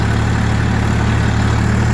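A luxury-class DTZ tractor engine runs at a steady, loud idle, a continuous low throbbing hum with no pauses and no speech.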